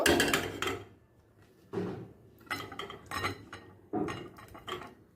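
A finished aloo potol paneer curry is scooped into another pot, with metal utensils clinking and scraping against cookware in four separate bursts and short pauses between them.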